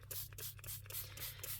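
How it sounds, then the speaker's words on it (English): Water spritzed onto paper pages of a junk journal: several quick, close hissing spray bursts in a rapid rhythm, with faint rubbing between them. "I'm going to spray some more water"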